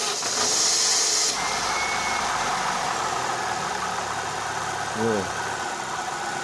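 A Daewoo Lanos 1.5 engine with a worn, knocking condition runs at a steady idle close by, a continuous mid-pitched drone, while people talk briefly over it.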